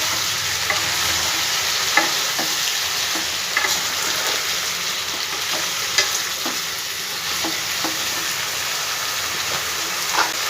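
Potatoes and tomatoes being stirred together in a pan for a tangy, spicy Bengali potato curry, a steady sizzle with scraping spoon strokes and soft knocks against the metal, continuous and fairly close.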